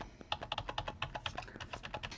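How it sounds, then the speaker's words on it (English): Arrow keys on a computer keyboard pressed in a quick run of close, light clicks, roughly a dozen taps in steady rhythm with no talking. "you can use your arrow keys on the keyboard to nudge your selection"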